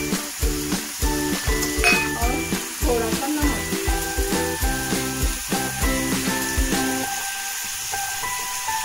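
Green chilies dropped into hot oil with onions in a home kitchen pan for aloo methi sabzi, a steady close sizzle punctuated by rhythmic stirring or scraping knocks, with faint music-like tones in the background.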